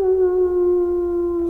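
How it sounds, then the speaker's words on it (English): A single sustained animal howl, wolf- or dog-like, used as a sound effect in a Halloween radio play, holding one steady drawn-out tone for the whole moment, loud and close over a faint low rumble, with no voices. "Suddenly, something howled from the dark."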